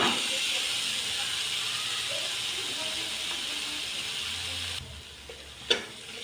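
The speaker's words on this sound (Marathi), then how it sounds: "आता आपण याच्यात खवा टाकणार आहोत" Khoa frying in ghee in a pan, a steady hissing sizzle that drops away near the end, followed by a single sharp clink.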